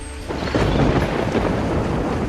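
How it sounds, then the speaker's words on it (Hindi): A heavy downpour pounds steadily while a deep thunder rumble rolls underneath, loud and continuous throughout, with no voices. "उसी दिन बहुत तेज बारिश होने लगती है।"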